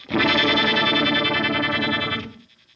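A Keeley Monterey Rotary Fuzz Vibe guitar pedal set to octave-up fuzz produces a loud, dense, buzzing sustained chord with swirling modulation, lasting about two seconds before cutting off into a short tail.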